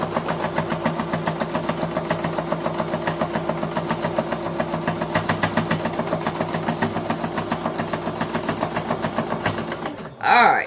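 Sewing machine runs steadily, double stitching the pockets of a drawstring bag, a fast even whir of needle strokes for about ten seconds before it stops with a louder clunk at the end.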